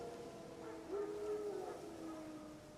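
Wild dogs howl in The Witcher 3 game, a drawn-out wavering howl rising in the middle of the clip over a low ambient game backdrop, with a fainter second howl trailing near the end.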